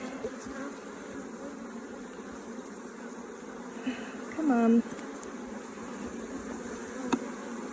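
Bees crowded in a corner of a top bar hive give a close, even, continuous buzz, with a voice briefly speaking partway through.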